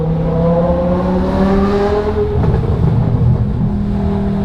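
A modified BMW M5 Touring's V10 with equal-length headers and E-Venturi intakes revs loudly nearby, rising and falling in pitch with a smooth, high-pitched howl.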